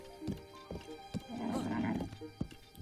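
A horse in the video game Zelda: Breath of the Wild gives a loud, drawn-out whinny in the middle, while sharp, evenly spaced hoof clops sound before and after it.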